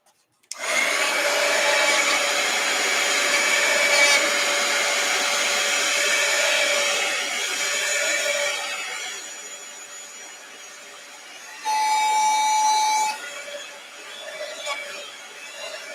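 A hair dryer blowing on painted paper, a loud steady whoosh that starts abruptly, eases slightly partway, then surges again briefly as it is moved, with no speech over it.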